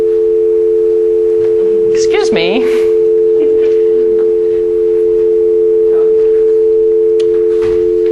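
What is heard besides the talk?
telephone dial tone after the phone line was lost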